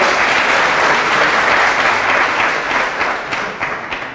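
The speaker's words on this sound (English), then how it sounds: "Clap for them." Loud, dense applause from a crowd at a university student association inauguration ceremony after an oath of office, sustained and then thinning out with scattered individual claps toward the end.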